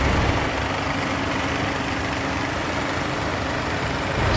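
A Case VAC tractor idles during a small-town summer festival parade, its steady low engine rumble running without pause and mixed with broad outdoor noise, with no voices heard.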